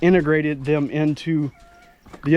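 Chickens cluck and squawk in a run of short, close, harmonic calls, with a brief quieter gap before the clucking starts again.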